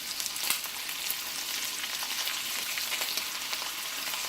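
Wet-cured smoked bacon pieces fry in a pan with a bright, dense crackling sizzle, close and steady, with small pops throughout and no voices.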